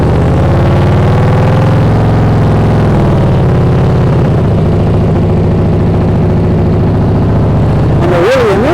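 Motorcycle engine held at a steady mid-range drone while the rider slips the clutch in the friction zone and balances the throttle, the revs shifting slightly near the end under a constant close mechanical hum.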